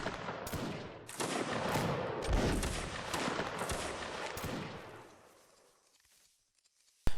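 Musket volley fired by files from the right in a line-infantry drill: a rolling series of loud, overlapping black-powder shots over about five seconds that taper off into quiet, then a sharp report at the very end.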